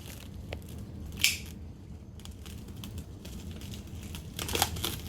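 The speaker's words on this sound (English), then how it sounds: "I'm just going to take my knife and cut this off" A knife cuts beeswax comb off a beehive frame, making faint crackling, crinkly tearing with a couple of sharper scraping strokes, close and quiet, with no voices.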